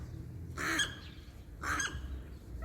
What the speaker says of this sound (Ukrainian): Чуєте? Це ворона.